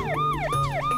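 Ambulance siren rushing past on emergency lights, a loud wailing tone sweeping up and down in quick repeated cycles over a low engine and road rumble, with no voices.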